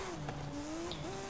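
An 850hp rear-wheel-drive Porsche 911 GT3 RS drift build slides around a circuit, a steady engine drone rising slightly in pitch, heard from inside at moderate level with no talk.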